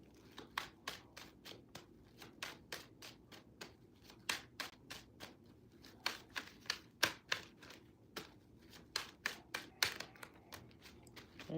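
Rapid crisp riffling and soft slaps of tarot cards being shuffled, in repeated bursts with short pauses, close and fairly quiet, no voices.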